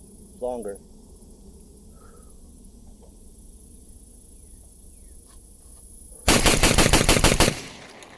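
Beretta A300 and 1301 tactical shotguns fire rapidly side by side in a loud, dense burst of about a dozen closely spaced blasts near the end, after a long quiet outdoor stretch with a brief chirp early on.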